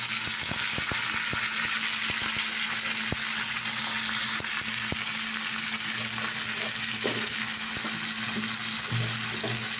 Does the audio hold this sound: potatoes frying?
yes